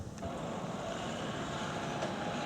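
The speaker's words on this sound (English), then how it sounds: "So here comes the train, 9:48 to Waterloo" A South Western Railway train heading for Waterloo arrives at a station, a steady faint rumble and hiss with a couple of brief clicks, no voices over it.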